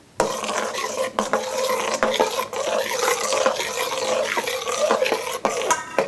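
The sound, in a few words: stirring yeast and water in a bowl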